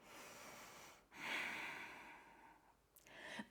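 Breathing during a flowing yoga sequence, a long audible exhale swelling after a brief pause and easing off, then a quicker sharp intake near the end, close and fairly quiet with no talk.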